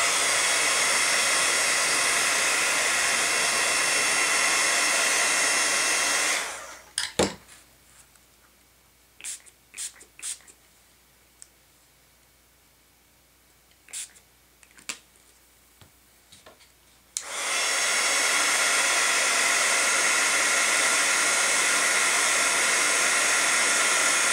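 A hair dryer blows loudly to dry shimmer spray on white cardstock, runs for several seconds, pauses for a stretch of quiet tapping and handling noises, then roars on again.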